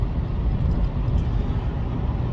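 A Lexus IS350 fitted with a cold air intake runs with a steady, deep engine rumble, constant and close with no other sounds on top.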